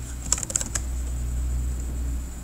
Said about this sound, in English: And then they're going to type in their name.